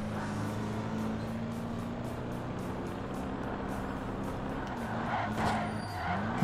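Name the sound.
race car engine in a video game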